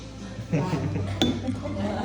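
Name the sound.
glasses clinking for a tequila toast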